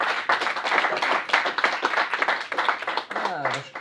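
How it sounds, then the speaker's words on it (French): Audience at a live magic show claps for a performer, a dense patter of handclaps running throughout with crowd voices mixed in. "Allez, on peut tous applaudir Martin-Marie."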